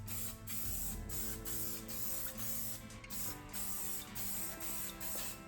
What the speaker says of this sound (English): We'll just spray paint it on.